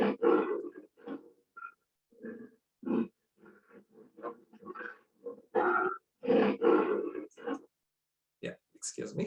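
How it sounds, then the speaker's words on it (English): An Indian tiger roars in a series of deep, rough bursts and grunts separated by short silences, fairly close and clear, with no other sounds between calls. "So let's listen to a tiger roar."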